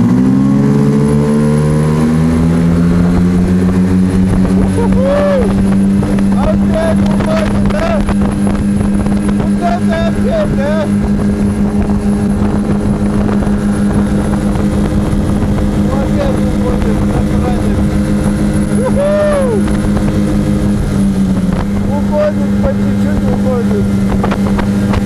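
Two 9.8 hp outboard motors, a Tohatsu and a Stels, race on open water, their steady engine drone loud and continuous throughout, with rising whines as they throttle and wind buffeting the microphone.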